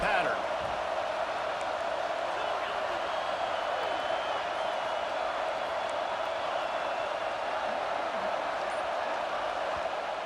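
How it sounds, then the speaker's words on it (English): Stadium crowd roar from the College Football 26 video game, a Crimson Tide home crowd at Saban Field rising for an LSU third down, a steady dense wash of cheering held at constant loudness throughout. "The Tide crowd rolling noise down onto Saban Field on 3rd down"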